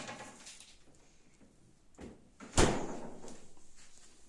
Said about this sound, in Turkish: Buzdolabın kapısını kapat.